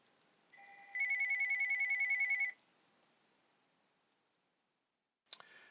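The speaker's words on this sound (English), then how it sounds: "we had a phone call from my son" A home desk telephone rings once in a loud, warbling electronic burst lasting under two seconds, followed by near silence and then a brief click.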